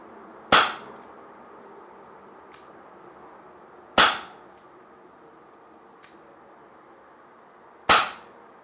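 A Ruger SuperHawk 8-inch 6mm airsoft revolver by Umarex fires three sharp, loud, close shots about three and a half seconds apart, with faint clicks between them.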